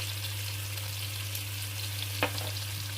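Canned mackerel sizzling steadily in a pan, with a low constant hum beneath and one brief scrape of a utensil being stirred through it near the end.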